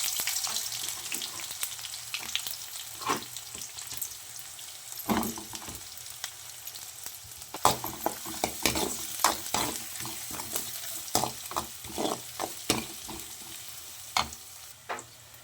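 Onion goes into hot oil with mustard seeds and curry leaves, frying with a continuous sizzling hiss while a spoon scrapes and stirs in quick repeated strokes that grow busier toward the end.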